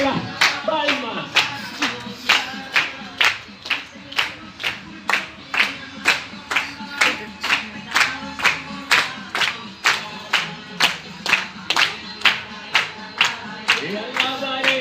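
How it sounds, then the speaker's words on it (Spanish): Worship congregation clapping hands in a steady rhythm during a Spanish-language church song, about thirty sharp claps in a row with singing voices underneath. "Fuerte las palmas."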